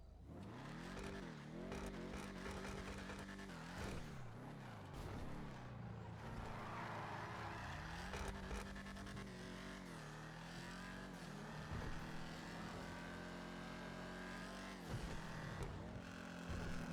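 A throaty V8-style muscle car engine in GTA Online, the Vapid Dominator, rumbles and revs repeatedly, rising and falling in pitch, loud and close with no talking.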